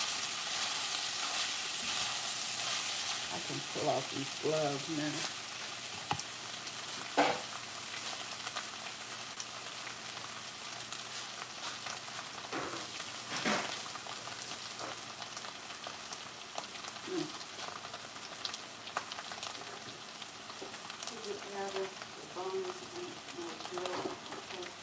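Onion-powder-seasoned food sizzles steadily in a pan, with a spoon scraping and stirring at irregular moments; a person talks intermittently over the continuous frying noise.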